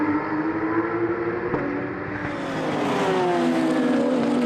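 Race cars, Porsches and a Renault Clio, roar along the circuit at Le Mans, a sustained engine drone with rising pitch as cars accelerate past, loud and continuous.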